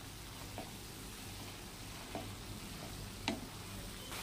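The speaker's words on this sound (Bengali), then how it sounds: "এটাকে আমরা ভালো করে ভেজে নেব।" Banana flower paste with salt and turmeric frying in a pan makes a steady, soft sizzle, with occasional faint ticks and stirring scrapes over the continuous hiss.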